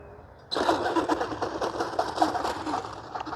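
An FMS F-16 64mm electric ducted-fan RC jet surges to a loud, steady whine and roar close by after a quiet start, holding strong throughout.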